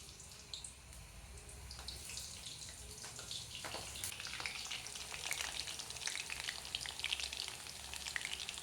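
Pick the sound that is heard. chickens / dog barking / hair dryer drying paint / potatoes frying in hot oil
potatoes frying in hot oil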